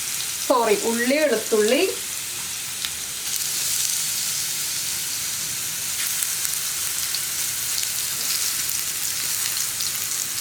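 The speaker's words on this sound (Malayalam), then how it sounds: "ഇതിലേക്ക് നമുക്ക് ഒരു ടീസ്പൂൺ കടുക് ചേർത്ത് കൊടുക്കാം. കടുക് ഒന്ന് പൊട്ടി തുടങ്ങട്ടെ." A teaspoon of mustard seeds hisses and crackles in hot oil, a steady close sizzle throughout, with a brief voice early on and faint clatter over the frying.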